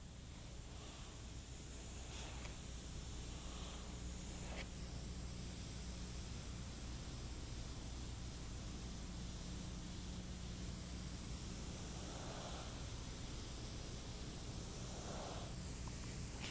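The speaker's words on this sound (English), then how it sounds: "that would complete the actual airbrushing on these products" An airbrush sprays food coloring close up onto cake icing, a steady, even hiss of air that runs unbroken throughout, with faint soft bumps under it.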